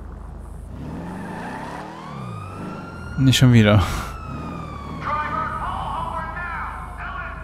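Police car sirens wail in Grand Theft Auto V, rising and sweeping with a loud burst midway, over traffic and engine noise, while a voice speaks briefly.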